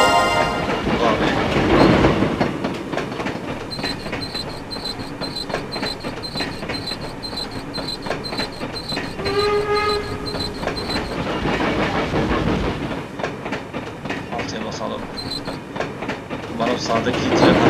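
Trains rumble and clatter through a level of the Hugo video game, a steady mechanical roar with tonal whistle-like bursts in the middle and a louder swell at each end.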